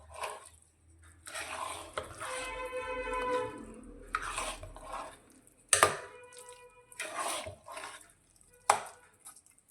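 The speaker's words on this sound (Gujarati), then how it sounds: "ફરી એકવાર ખીચડીને મિક્સ કરીશું" Bajra khichdi with vegetables and fresh green coriander is stirred in a pot, giving wet, squelching mixing sounds broken by sharp spoon clinks against the rim.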